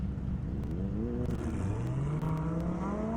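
A Lamborghini makes a drag racing pass on an airstrip, its engine climbing steadily in pitch through the gears as a continuous loud roar heard from a distance.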